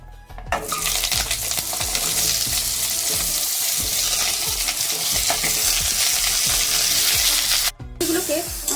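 Cut vegetables hit hot oil tempered with panch phoron and a dried red chilli, sizzling loudly and steadily with the clatter of stirring throughout, as elephant apple curry is cooked without onion or garlic.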